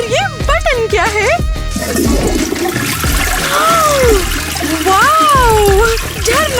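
A shiny toilet flushing after its button is pressed, a rushing water swirl running through most of the clip under animated children's voices talking.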